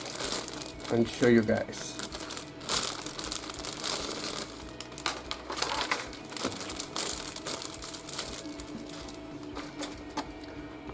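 Plastic bag of screws for a 1:48 A6M2 Zero Type 21 model kit being handled and torn open, close crinkling and rustling bursts while someone talks over it.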